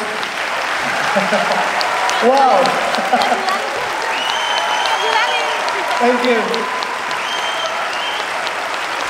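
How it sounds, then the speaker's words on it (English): A conference audience at AdASIA 2017 in Bali breaks into loud, continuous applause, with a few voices speaking briefly over the clapping as it swells and holds. "Please give applause."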